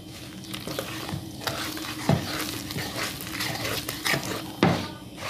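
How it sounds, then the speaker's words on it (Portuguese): A spoon stirs apple pie batter after milk is added, with a continuous wet swishing and a few dull knocks against the bowl, close and fairly loud. "eu vou estar mexendo tudo aqui, incorporando esses ingredientes"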